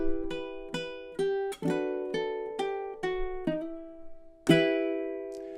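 A ukulele plays the next stanza of The Wellerman, a handful of clear plucked notes with a few strummed accents, the last one ringing out, soft and solo with no talking.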